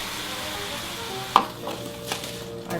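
Minced garlic and mushrooms sizzle in a frying pan, a steady low fry with a sharp clack of a utensil partway through and a few softer stirring knocks; no talking.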